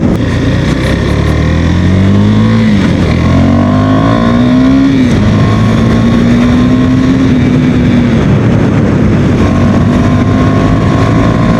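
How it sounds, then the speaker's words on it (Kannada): A KTM Duke 390 motorcycle accelerates through city streets, its engine note climbing, dipping briefly at each of two gear shifts, then rising again; loud and close, with steady wind rush throughout. "ಜಸ್ಟ್ ನಾ 2 ಗೇರ್ ಶಿಫ್ಟ್ ಮಾಡತ್ತೀನಿ"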